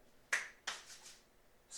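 Two quick finger snaps as body percussion, a crisp double click close by and fairly quiet, followed by a soft rubbing hiss.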